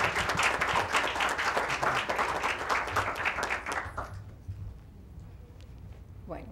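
Audience applause at a music law colloquium, a lively crowd clapping for about four seconds before it quickly fades to a quiet room with faint murmurs.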